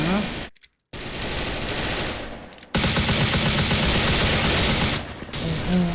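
Rapid bursts of automatic gunfire from enemies firing at the player in the online shooter Special Force, loud and sustained with two brief gaps of silence, chattering machine-gun fire dominating throughout.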